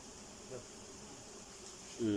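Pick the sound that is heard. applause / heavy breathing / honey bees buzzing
honey bees buzzing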